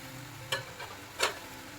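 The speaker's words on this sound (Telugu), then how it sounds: "ఇప్పుడు వీటన్నిటినీ కూడా ఒకసారి బాగా కలుపుకోవాలి" Spices are stirred into egg masala in a pan, with two short scraping strokes of the spoon over a faint, steady sizzle, close and fairly quiet with no talking.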